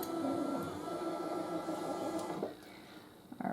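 An Htvront auto heat press hums steadily, then its motor shifts as the platen lifts open on its own, ending in a few soft mechanical clicks.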